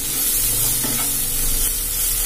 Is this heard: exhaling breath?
no